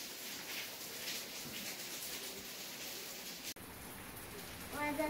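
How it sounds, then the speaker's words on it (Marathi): Rain falls outside, a steady soft hiss of drops on surfaces heard faintly from indoors, with a voice near the end. "पाऊस पण चालू आहे बाहेर"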